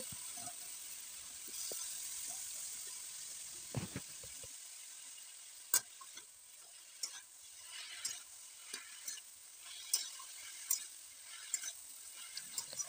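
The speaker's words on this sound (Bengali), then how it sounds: "পিড়িং শাকটা দিয়ে আমি এটাকেও দু মিনিটের জন্য একটু মিডিয়াম ফ্লেমে ভেজে নেব" Piring greens fry on a medium flame, a steady low sizzle behind repeated sharp clinks and scrapes of a spatula against the pan, with no voices.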